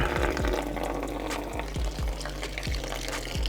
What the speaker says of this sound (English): lever this one off and get ready to catch the coolant